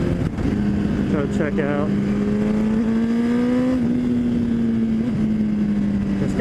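Honda CBR1000RR motorcycle downshifting into first gear on a ride: a steady, loud engine drone with a quick blip and pitch shift early on, then a smooth, slowly rising hum, with someone talking over it briefly.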